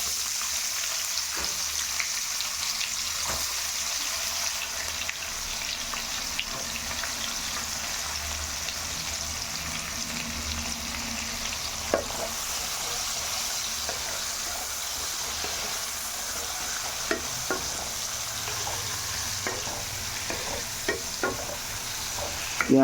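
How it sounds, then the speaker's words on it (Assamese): Onion fries in hot oil with bay leaf, cinnamon and whole cumin, giving a dense, even sizzle that runs on without a break, with soft scrapes and taps from stirring scattered through it. "পিঁয়াজটো এতিয়া মই ভালকৈ ভাজি ল'ম।"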